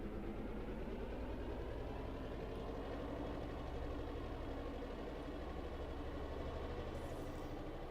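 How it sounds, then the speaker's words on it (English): A ship's engine starts up in the Roblox Titanic game, a steady low rumbling hum with a faint mechanical pulse that stays quiet and constant throughout, with no voices. "Listen to that engine start up."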